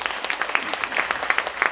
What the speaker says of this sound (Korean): 이 박수를 보내드릴까요?